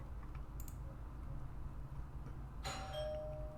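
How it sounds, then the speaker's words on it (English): A doorbell chimes once near the end, a bright ringing tone with a lingering decay that stands out over a soft background of clicking and room noise. "Why is my doorbell ringing?"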